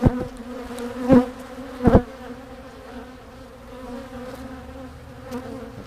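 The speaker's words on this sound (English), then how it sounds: "The bees, they're not stinging either. They're just flying all over and bouncing." Honey bees buzz in a steady drone around an open hive being split vertically with a screen divider board, close by, with a few sharp knocks or thuds from handling the boxes.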